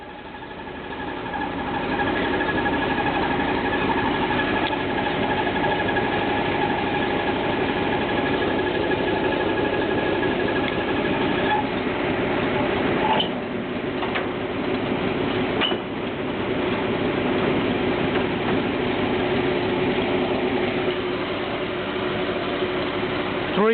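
The 332 cubic inch V8 of a 1963 Ford F750 fire truck idles after a cold start, a steady loud rumble close by with a few brief clanks, and no voices.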